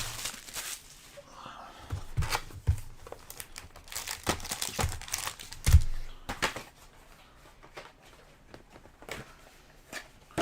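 Foil wrappers of Topps Finest baseball card packs crinkle and tear in a run of soft rustles and sharp crackles, close and fairly quiet, with scattered louder rips and no talking.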